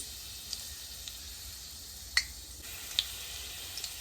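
Garlic cloves grated into a hot pan on a gas stove for chow mein, a steady faint sizzle of frying with a few sharp ticks and small clicks scattered over it.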